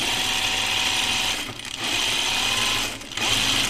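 A domestic sewing machine stitching French seams on dress fabric, its needle mechanism chattering in a fast, even whir with two brief pauses between runs, close and alone.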